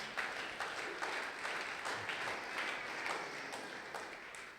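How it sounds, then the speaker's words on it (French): A church congregation applauding during a Sunday worship service, fairly distant and soft, with claps falling into a loose, steady rhythm of repeated pulses throughout. "Est-ce que tu peux acclamer pour la gloire de Jésus?"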